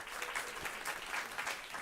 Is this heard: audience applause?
yes